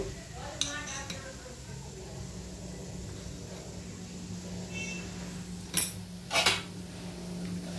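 A ladle works through a cooking pot of spices, cumin powder, green chillies and salt, over a low steady hum, with a few sharp metallic clinks near the end.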